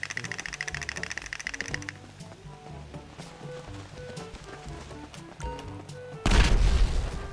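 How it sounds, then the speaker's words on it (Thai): A large explosion from a bomb in GTA V roleplay gameplay bursts out near the end as a loud, broadband boom, following a stretch of game sounds and music. "อ๋อระเบิดระเบิด"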